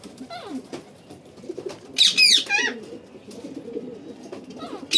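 Domestic pigeons perched at their nesting boxes give soft, low cooing calls close by, with a sharper burst of bird calls in the middle and another at the end, over a quiet background.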